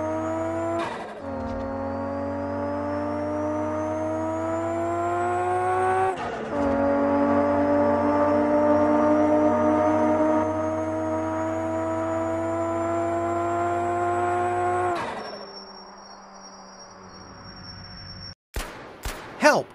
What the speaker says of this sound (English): New gameplay with engine sounds